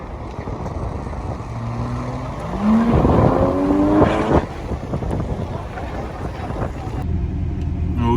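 A Porsche Boxster 718 sports car on a race track roars loudly, its engine note climbing sharply in pitch as it revs and passes close by, then settling into a rougher, lower drone.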